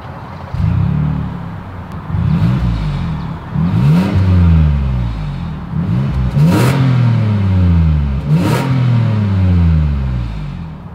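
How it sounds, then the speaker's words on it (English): Exhaust of a 2022 Toyota Highlander Platinum, idling with a steady rumble and then revved repeatedly, with several rising and falling surges, loud and close throughout. "As always, here is that exhaust clip."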